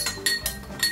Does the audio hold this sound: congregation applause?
no